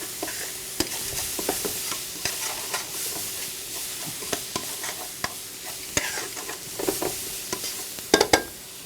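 Finely diced onions fry in a couple tablespoons of oil for an Italian pork tenderloin, giving a steady close sizzle broken by frequent sharp clicks and scrapes of stirring.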